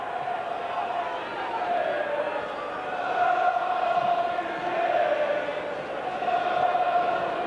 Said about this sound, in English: Looks like a capacity crowd here at Central Park